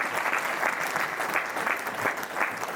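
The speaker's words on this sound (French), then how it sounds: "Est-ce qu'on peut les applaudir pour cela?" Guests at a 50th birthday party clap together in steady, dense applause that holds at an even level throughout, with no voices over it.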